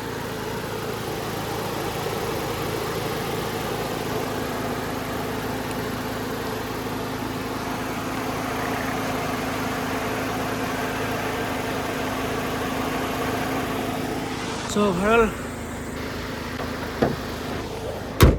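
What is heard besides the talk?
Maruti Baleno radiator fan running with AC on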